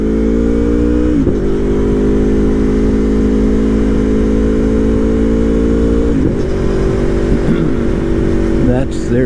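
Aprilia motorcycle engine running loud and close, a steady buzzing drone with several quick rev blips and gear changes, heard from the rider's position with wind noise.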